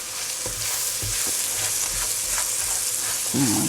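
Chopped garlic and red onion fry gently in a pan for a mushroom risotto, a steady close sizzle with occasional spoon scrapes and soft knocks against the pan.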